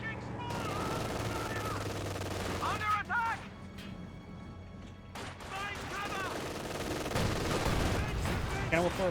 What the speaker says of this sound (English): Warfare fires a shot.